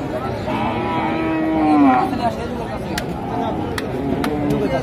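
A bull moos loudly at a busy Bangladeshi cattle market before Eid sacrifice, one long drawn-out low call rising and fading over a steady hum of crowd chatter and nearby voices.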